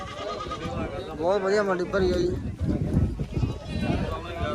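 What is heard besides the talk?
goats bleating at livestock market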